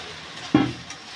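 Chicken meat and chicken skin being braised in oil in a pan, a soft sizzle with one sudden, loud stirring scrape in the middle before settling back to a low fry.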